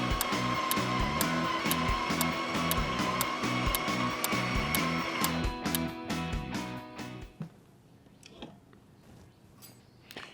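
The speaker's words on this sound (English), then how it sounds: "We're going to grind the beans." A Ninja Luxe Cafe espresso machine grinds coffee beans at grind setting 10, giving a steady mechanical whir with rapid regular ticking pulses for about seven seconds, then cutting off into a few quieter clicks.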